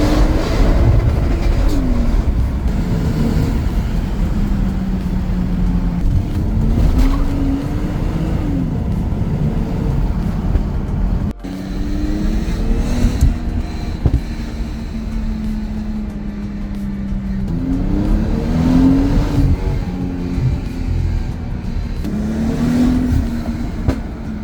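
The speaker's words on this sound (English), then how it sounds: "I'm not going to tell you that this is the best sounding JZ by any means." A Toyota JZ-engined JDM luxury sedan drives along, its engine note rising and falling steadily through several gear changes, a continuous drone heard from inside or close by without talk.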